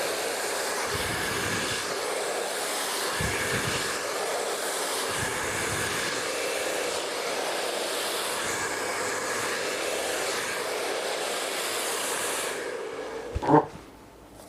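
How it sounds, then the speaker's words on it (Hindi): A hair dryer blows steadily and loudly while hair is being dried for a roller setting, a continuous broadband whoosh that cuts off near the end, followed by a short clatter. "तो मैं यहाँ पे ड्रायर कर लेता हूँ"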